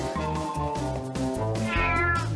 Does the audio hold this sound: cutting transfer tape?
no